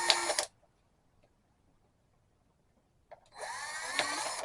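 A Black & Decker household power drill bores gas holes in a homemade alcohol stove, giving two loud close whirring bursts separated by about three seconds of near silence.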